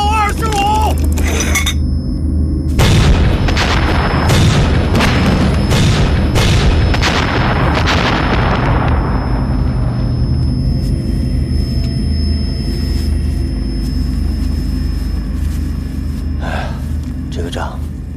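Artillery cannons fire in a war-film battle: a rapid series of heavy, loud booms and blasts over a rumbling backdrop, with voices heard amid the barrage.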